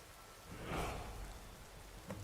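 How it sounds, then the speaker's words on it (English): Steady video game rain washes over the scene in a soft, continuous hiss, with a brief swell partway through and a faint tap near the end. "We're in the rain."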